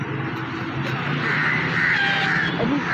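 Crows caw repeatedly near a spot where dogs and crows gather around meat scraps, harsh calls rising over a constant background hum with no talking.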